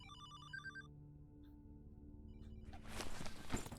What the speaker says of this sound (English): phone ringing? Yes. And I swear it's Carter's ringtone.